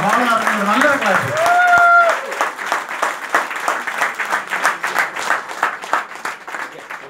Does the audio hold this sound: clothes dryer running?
no